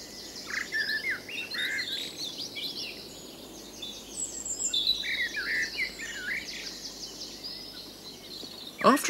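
Several wild birds chirp and call in short, bright bursts from moderate distance over a steady outdoor hiss of insects, with a sharper call near the end and no voices.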